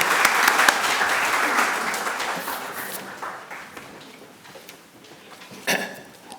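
A hall audience at a DTU National Science Day celebration claps to welcome a speaker, a dense burst of applause that gradually thins and fades, with a few final claps near the end.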